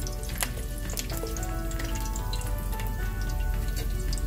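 Fennel seeds and curry leaves fry in oil over a low flame, a dense close crackle with sharp popping spits scattered throughout, continuous and fairly loud with no voices.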